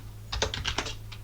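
About seven quick keystrokes on a computer keyboard while typing a command in a Linux terminal to edit the bashrc file, close and crisp with no talking.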